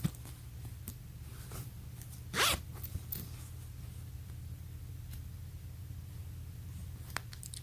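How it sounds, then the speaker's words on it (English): A zipper on Banana Republic dress pants, a YKK zip, gives a quick, close ripping zip, surrounded by faint fabric handling and low background hum. "Then there's a zipper."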